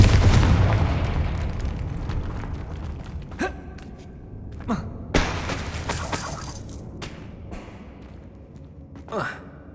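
Confringo fire-blast spell in the video game Hogwarts Legacy, several sharp bursting impacts spaced across a busy game soundtrack, each a sudden loud crack that fades quickly.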